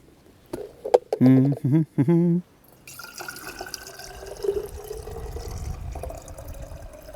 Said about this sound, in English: take one of these quart jars right here. Well, actually, this is what I'm going to do right now. And we are going to fill this with water first.